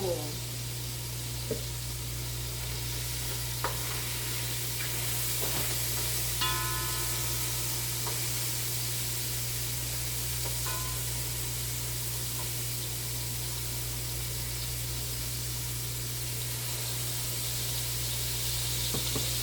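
Sofrito for chicken soup sizzles softly in a pot: a faint, steady hiss beneath a constant low electrical hum, with a few brief clicks and some quiet background sounds.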